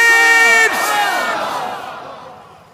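A large crowd at a religious sermon gathering in Kolkata loudly chants Subhanallah and takbir together, a sustained swell of voices that fades out over a few seconds.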